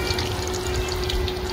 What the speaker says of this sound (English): olive oil that's infused with garlic and onion.